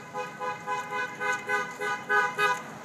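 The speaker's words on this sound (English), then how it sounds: "People honking that are supporting us." Car horns honk in a series of repeated short blasts, fairly close and loud, as passing drivers show support for a Guns Across America rally in Raleigh, North Carolina.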